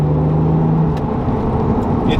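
Porsche 996 C4S flat-six engine pulling hard on a kickdown, a loud steady in-car roar that holds level across the short stretch, with a brief whine fading out about halfway.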